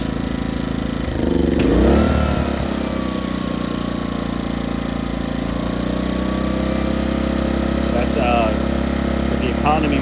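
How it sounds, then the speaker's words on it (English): A Coleman Powermate PM2000 generator engine runs close by with a steady drone, its speed rising and shifting as it revs up, then holding a constant pitch. "With the economy mode turned off, it revs up"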